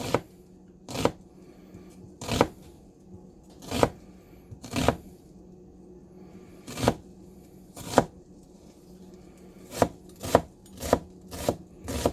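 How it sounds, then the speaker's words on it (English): Knife chopping a medium-large onion on a cutting board, a dozen or so sharp, separate thwacks at an uneven pace that quickens near the end, close and clear over a low background hum. "I'm going to start with dicing this onion, medium large, fine."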